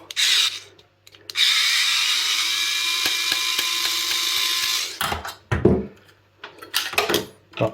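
A Parkside cordless screwdriver backs screws out of scrap, with a long steady high-pitched motor whine followed by several short, choppy bursts separated by brief pauses.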